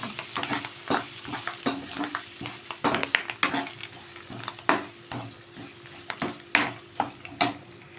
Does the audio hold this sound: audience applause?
no